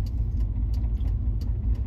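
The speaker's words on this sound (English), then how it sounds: "fire this truck up on this beautiful day" A pickup truck's engine rumbles steadily with a deep low-frequency drone, close and continuous, with faint light clicks on top and no talking.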